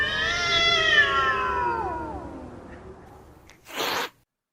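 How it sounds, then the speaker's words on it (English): Cats yowling in a long, wavering, drawn-out cry that slides down in pitch and fades, followed by a brief burst of hissing noise near the end. "It was cats."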